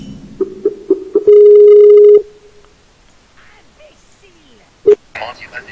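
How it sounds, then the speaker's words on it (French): A Skype call rings in a short series of electronic tones, followed by one long sustained tone and a brief blip later on, loud and close over quiet background noise during a Hearthstone live stream. "Alors Rimchu, est-ce que tu pourrais venir sur Skype aussi?"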